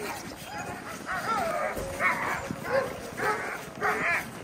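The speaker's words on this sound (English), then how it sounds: "Oh my gosh, look at these doggies." Dogs in Fairbanks, Alaska, bark and yip in repeated short bursts at close range, with people's voices talking among them.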